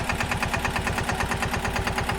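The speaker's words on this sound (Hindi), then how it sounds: "ये मेरे पापा ट्रैक्टर चला रहे अभी" A tractor engine runs on a cotton farm with a close, steady chugging beat, its rapid regular pulses continuing throughout without voices.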